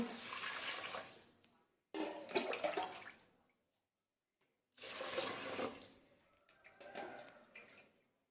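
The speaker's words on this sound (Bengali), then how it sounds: "এই মগেই মেপে মেপে তিন মগ জল দিয়ে দেব" Water poured from a mug onto rice in a pot for fried rice, heard as two separate pours of steady, close splashing gurgle, each lasting a couple of seconds with a pause between.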